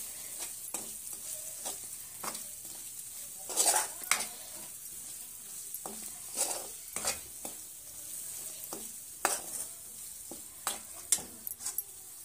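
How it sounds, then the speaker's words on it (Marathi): Spices sauté in hot oil in a pan for a potato rassa bhaji, with a soft continuous sizzle broken by repeated scraping strokes of a spoon against the pan, close and fairly quiet, with no talking. "मसाले चांगल्या प्रकारे आपल्याला तेलात पहिला परतून घ्यायचा आहे"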